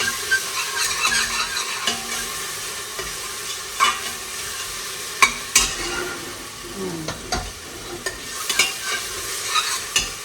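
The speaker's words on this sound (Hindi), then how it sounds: "उसके बाद मैं ये रेड किडनी भी डालूँगी, उसको भी भूनूँगी" Red kidney beans for rajma sizzle and fry in an oily pan while a spoon stirs and scrapes them in irregular strokes, with soft clinks against the metal, close and steady, and no talking.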